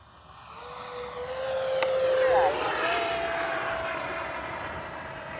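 A Freewing F-16 70mm V3 electric ducted-fan RC jet flies overhead in gusty wind on a gear-down landing approach. Its loud, steady turbine-like whine swells and shifts upward in pitch as it passes.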